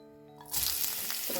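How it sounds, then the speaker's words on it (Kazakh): Chopped onions hit hot vegetable oil in a pan and break into a loud, steady sizzle after a brief quiet moment, with a faint clink near the end. "тұрған тапамызда пиязымызды салып, қатты емес, кішкене тоқталып қуырып аламыз."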